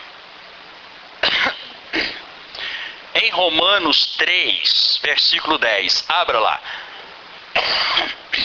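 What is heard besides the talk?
coughing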